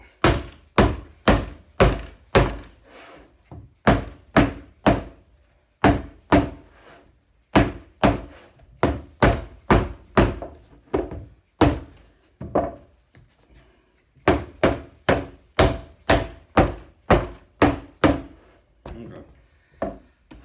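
A dead blow hammer strikes a homemade airgun target again and again, giving loud, close, dull thuds in quick bursts of several blows, separated by short pauses.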